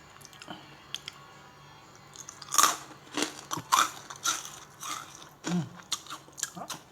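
Crispy baked vegetable chips, banana and taro among them, crunched close to the mic in a run of sharp bites and chewing crackles, quiet at first and busier in the second half, with no talking.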